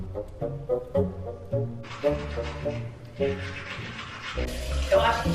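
Tap water runs into a sink to rinse a skincare product off the face, a steady splashing hiss that swells midway, with voice sounds over it at the start.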